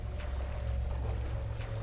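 Water sloshes and pours in a steady low wash through the video game Liminal Gallery, with a faint tonal hum sitting above it for a couple of seconds.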